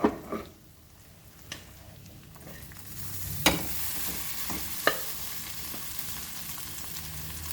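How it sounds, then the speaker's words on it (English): Cooked rice for lemon rice being tipped into a hot pan and stirred, with a steady sizzle, occasional spoon knocks against the pan and a soft scraping stir throughout, close up and with no speech. "Now we will add our rice to this."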